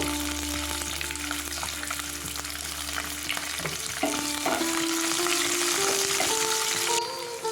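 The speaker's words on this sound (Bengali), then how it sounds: "ক্যাপসিকামটা ভেজে নেব" Chopped capsicum fries in oil in a pan with a constant, close sizzle and occasional stirring, over quiet background music.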